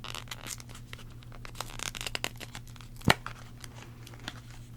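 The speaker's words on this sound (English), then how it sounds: "Just breaking the seal here." Plastic wrap seal on a playing card deck being torn open: soft crinkling and rustling close up, with one sharp crisp snap midway, quiet and intimate, no talk.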